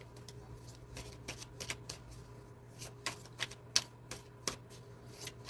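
Tarot cards being shuffled and drawn, a series of soft, irregular snaps and riffling flicks, close and quiet, spread across several seconds with short pauses between them.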